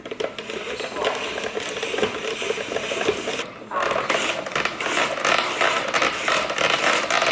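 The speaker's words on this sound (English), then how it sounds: "I just fired up the other blade, the alternative blade on my spiralizer" Spiralizer blade cutting yam into chips, a dense continuous rasping, scraping churn with rapid mechanical texture, loud and close, briefly dipping midway before resuming.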